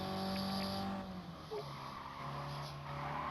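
A Mini race car in a racing game at Goodwood drones steadily through a chicane, the engine note dipping as it brakes and then climbing again, loud and close with a light tire hiss.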